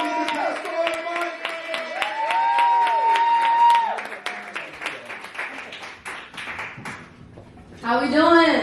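A stand-up comedy crowd in New York claps and cheers for a comedian, dense rhythmic applause building loud and sustained, with a voice shouting over it and a final swell of cheering near the end.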